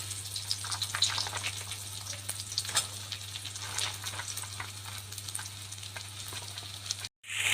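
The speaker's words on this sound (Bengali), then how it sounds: "এবার আলুটাকে নেড়ে চেড়ে আমি ভেজে নেব" Cubed potatoes frying in a pan with tomato and fenugreek leaves for ghugni, giving a steady, close sizzle as they are stirred, with scraping touches and no talking.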